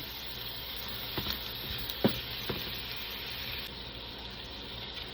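Sausage seasoned with sage browning in a frying pan for a breakfast sandwich, giving a faint, steady sizzle with a few soft clicks and taps, no voices.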